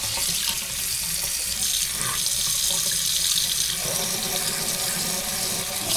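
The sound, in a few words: water running from a tap after turning it on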